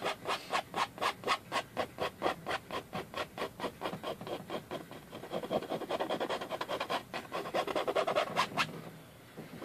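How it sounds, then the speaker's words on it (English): A palette knife scrapes paint across a 16x20 canvas in a landscape painting, making a regular back-and-forth rasping rhythm of about two strokes per second that blurs into a steadier scrape near the end, close and fairly loud. "then you scrape the paint off"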